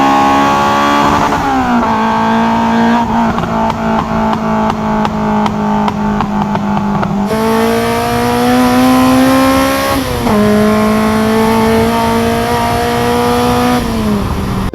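A Honda EP3 Civic with an aftermarket catback exhaust revs repeatedly up and down, rising and falling tones under a loud raspy note, heard close and strong throughout without talking.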